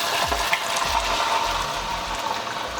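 Chopped onion, pepper and celery cooking in a pot for a Ghanaian-style lamb stew, a steady soft sizzle and bubbling hiss throughout with a few faint low stirring bumps, close and even, no talking.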